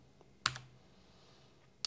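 Computer keyboard key pressed in a quiet room: a sharp single click, a softer follow-up tap, then another crisp click near the end, close and faint overall.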